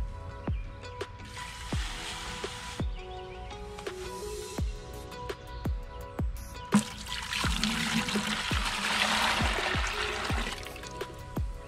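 Water pours and trickles into a container while gallons are measured out for mixing Alaska fish fertilizer. A steady splashing stream runs close by, and sharp knocks and clinks recur throughout. The flow grows louder toward the end, and no one talks.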